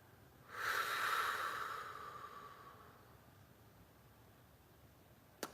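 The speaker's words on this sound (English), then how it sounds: "2 deep belly breaths here." One deep belly breath in Tadasana during yoga, a long audible exhale that swells, then fades over about two seconds, close and fairly quiet against a hushed background.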